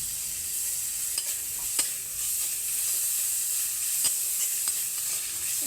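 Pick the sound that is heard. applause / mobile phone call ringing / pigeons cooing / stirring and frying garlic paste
stirring and frying garlic paste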